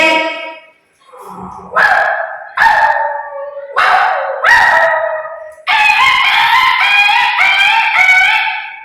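A voice imitates a dog, giving five short barks in a steady rhythm and then one long, drawn-out howling bark, close and loud.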